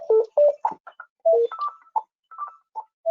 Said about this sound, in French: Excusez-moi pour le téléphone, on ne peut pas tout contrôler.